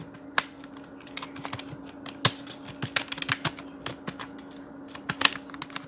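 Fingers typing HTML code on a computer keyboard, with quiet, irregular clicks and taps in uneven bursts under a faint steady hum.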